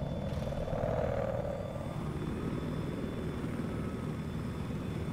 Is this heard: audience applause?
no